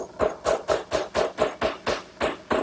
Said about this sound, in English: Just drive the pin in